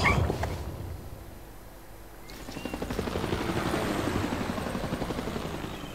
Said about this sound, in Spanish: Acabo de oír un helicóptero.